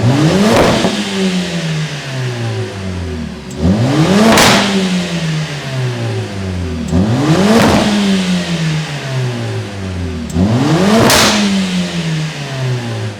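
A Mercedes-AMG CLA 45 S 4Matic+ Coupe 2021 engine in race mode revs hard four times, each rise climbing sharply toward high rpm before falling back, loud and close with no talking.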